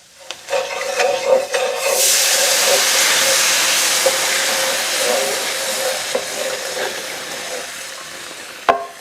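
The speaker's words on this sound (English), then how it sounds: "Now, we've got some beef broth that we're going to stir in." Beef broth is poured into a hot pan with hamburger steaks and stirred in, setting off a loud, close burst of sizzling hiss and steam that slowly fades over several seconds, with a few utensil knocks against the pan.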